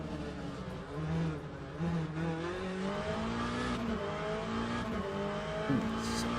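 Race car engine in the Le Mans Ultimate racing game, a loud, continuous aggressive drone with rising and falling revs through gear changes, close and steady throughout.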